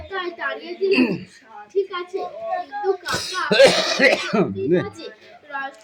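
A child coughs and clears their throat in a short harsh burst, heard up close between stretches of an adult's scolding speech.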